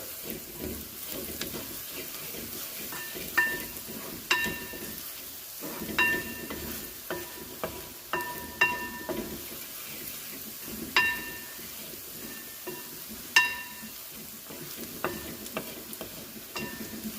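Turmeric powder frying in hot oil in a pan for a mushroom curry, with a steady sizzle broken by repeated stirring scrapes and spoon clinks, fairly close.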